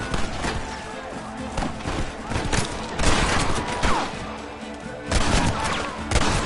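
Dense, continuous gunfire from Red Dead Redemption, with overlapping volleys and crackling shots running the whole time, loud and busy, with occasional shouted voices mixed in.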